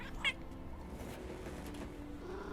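A cat gives one short, faint meow near the start against a quiet background hum, then stays silent.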